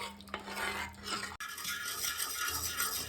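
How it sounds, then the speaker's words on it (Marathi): A whisk stirs white sauce of milk in a pan, giving a steady scraping swirl close by, briefly cut off partway through before the stirring resumes; no one talks. "ह्या वेळेला व्हिस्क घ्यायचं आणि व्हिस्कने कंटिन्युअस हलवत राहायचं"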